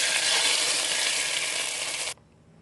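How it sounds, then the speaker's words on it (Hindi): Tempering (tadka) for karhi pakora hisses loudly in hot oil, a dense, close sizzle that holds steady for about two seconds and then cuts off abruptly. "तड़का लगाएंगे।"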